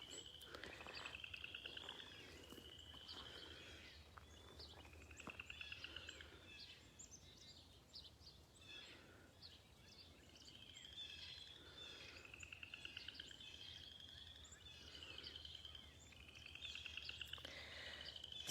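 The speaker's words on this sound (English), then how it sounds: "you can hear some birds in the background, but you can also hear those chorus frogs" Chorus frogs call in repeated trilling bursts at a small pool outdoors in the morning, steady rising rasps every few seconds, mixed with chattery birds chirping in the background.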